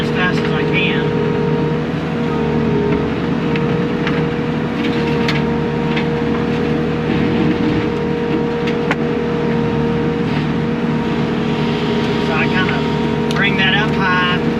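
A Blue Diamond brush mower on a track skid loader shreds brush, giving a loud continuous engine roar with a deep hydraulic drone and occasional sharp clatters from cutting.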